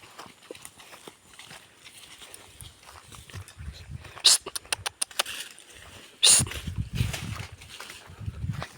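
A horse walks along a rural path in Marinduque, Philippines, its hooves making soft, irregular clops. People talk nearby and hiss a sharp "psst" at it, with louder thumps near the end.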